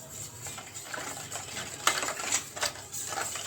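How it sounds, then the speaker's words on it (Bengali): A spoon works through a semolina and yogurt snack batter with a little Kashmiri chilli powder, giving faint wet scraping and soft clicks against the bowl, a few sharper knocks toward the end, and no talk. "অল্প একটু, বেশি না, দিয়ে সবগুলোকে একসঙ্গে মিশিয়ে নেব।"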